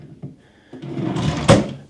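A drawer in a slatted chest of drawers in a London hotel room slides open with a few wooden knocks, then shuts with a firm thump, close by.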